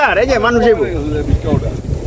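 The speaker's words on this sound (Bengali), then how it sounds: "পাগলা হাওয়া শুরু হয়েছে এই গরমের মধ্যে প্রচুর" Strong, gusty wind near the Shitalakshya River in Narayanganj on a hot day buffets the microphone with a steady low rumble, while a voice talks loudly over it throughout.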